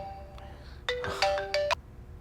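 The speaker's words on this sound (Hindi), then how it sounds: "इस टाइम पे क्यों फोन कर रहा है?" A phone rings in a Hindi-dubbed South Indian action romance film, sounding as several bright electronic ringtone bursts against a quiet background, loud and close with no talking.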